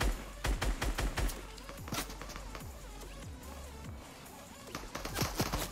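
Fortnite gunfire in a firefight: sharp rapid shots crackle in bursts, some clustered in quick volleys, others spaced out, over a quiet background with occasional lighter taps.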